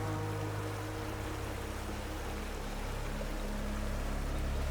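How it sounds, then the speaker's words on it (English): Water rushes steadily past beneath a fishing boat, a continuous broadband wash with a low engine-like hum underneath, close and unbroken throughout. "Hearing the water, you know, coming by under you, a lot of times it blocks out all the other sounds."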